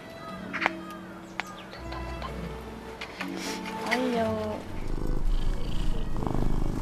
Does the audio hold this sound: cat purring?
yes